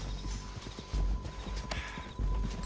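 Horse hooves clip-clop in a steady gallop rhythm in the Red Dead Redemption 2 video game, loud and close over a low rumbling backdrop, with no talking.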